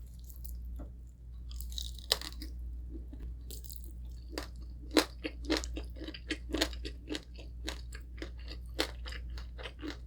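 Loud, close crunching bites and chewing of crispy roasted pork belly roll skin, a run of sharp irregular crackles over a low steady background hum, with no talking.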